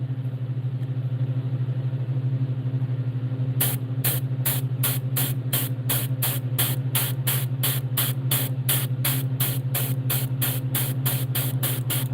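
Airbrush spraying paint onto a crappie fish lure, a constant hiss over a low motor hum, then a rapid series of short, evenly spaced bursts as the trigger is dabbed repeatedly.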